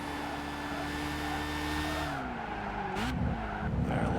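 Car engine in Gran Turismo 5 racing, a sustained buzzing whine holding steady, then dipping and shifting around a gear change before climbing again, with a brief hiss midway.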